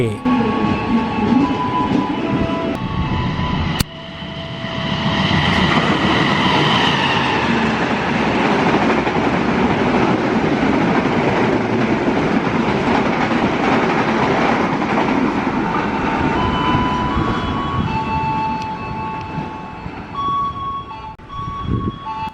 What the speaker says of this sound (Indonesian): kereta api jarak jauh selanjutnya yang akan melintas adalah kereta api Jakatingkir 256B